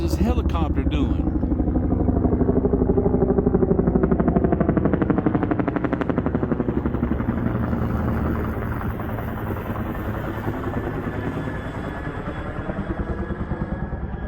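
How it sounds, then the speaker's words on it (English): A helicopter passes close overhead, its rotor thumping in rapid steady beats with a whining engine, loud at first and then easing slightly as it moves off. "What in the world is this helicopter doing?"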